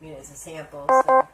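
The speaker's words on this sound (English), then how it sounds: "sorry my phone's dying and you're going to hear it a few times" Phone low battery alert, two short loud electronic beeps in quick succession near the end, close, following a woman's speech.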